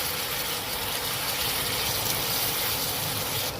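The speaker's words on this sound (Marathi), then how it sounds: "आपण आता ह्याच्यामध्ये थोडंसं गरम पाणी घालून घेऊ" Hot water poured into sizzling paneer keema masala with garam masala and kitchen king masala, a loud continuous gush and hiss held close throughout.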